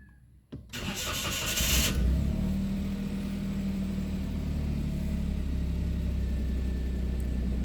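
A Toyota Wigo with a misfire, check-engine light and lost power cranks briefly and fires up, settling into a steady, close rumbling idle.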